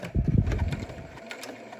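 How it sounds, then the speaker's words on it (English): A sewing machine stitching back along a seam of a face mask made with weed whacker cord, giving a short close mechanical whir that fades out after about a second. "you're just going to go back up and just follow that same stitching you just did"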